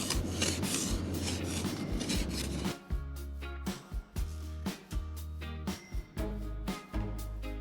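An ice scraper rasps frost off an RV window, a near, loud continuous scrape that breaks into a series of short rhythmic strokes.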